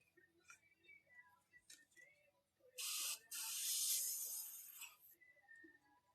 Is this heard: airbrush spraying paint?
yes